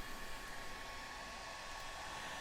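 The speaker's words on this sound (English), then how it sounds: "Then you get the hairdryer" A hair dryer heating battery wrap blows steadily, a loud, even whooshing hum with a faint high whine, running without pause and no voices.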